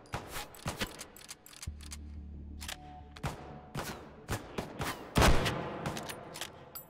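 An enemy fires at the player in the VR video game Hot Dogs, Horseshoes & Hand Grenades, a rapid series of sharp, cracking gunshots in irregular bursts, with one especially loud blast near the middle and a brief low hum partway through.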